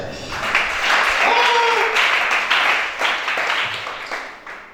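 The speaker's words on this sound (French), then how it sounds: "Acclame chacun." A church congregation at a worship service applauds with a dense, steady wash of clapping that swells and then slowly fades.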